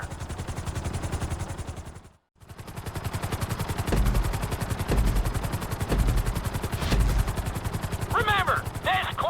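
A helicopter in the game GTA V, steady rotor chop throbbing loud and continuous through a flight-school lesson, with a brief dropout and some faint electronic chirps near the end.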